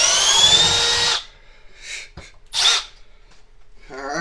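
A Milwaukee M12 Fuel hammer drill/driver backs out a lag bolt with a loud high whir for about a second, then stops, followed by a few short clicks and bursts of handling noise.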